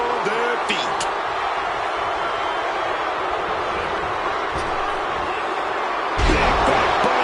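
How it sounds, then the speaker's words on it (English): A packed arena crowd roars continuously in the WWE 2K26 wrestling video game, a dense, loud wash of cheering with a commentator talking over it. "Just listen to this crowd. Every one of them is on their feet."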